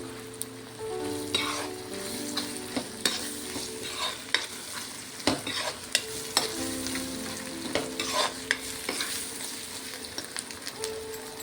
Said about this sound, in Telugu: బాగా మగ్గించుకోవాలి. అల్లం పేస్ట్ స్మెల్ పోయేంత వరకు.